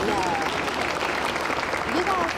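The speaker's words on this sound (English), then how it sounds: "You got to clap for her as she comes up." Steady applause from an audience at a school board meeting as students recognized at district or state level come forward, dense clapping throughout with voices and a brief tonal sound over it.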